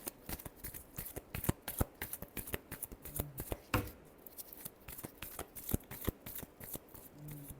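Tarot cards are shuffled in quick, close bursts of papery riffles and soft slaps in an uneven rhythm, quiet and without speech.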